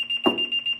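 Fire call alert tone, a rapid pulsing high-pitched electronic beep repeating steadily, with a brief low thud near the start.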